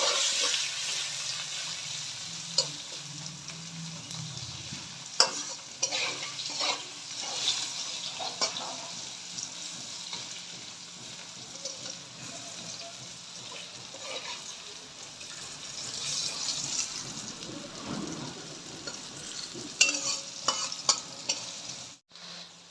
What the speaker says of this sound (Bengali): এবার আলুটাকে ভালো করে আমি ভেজে নেব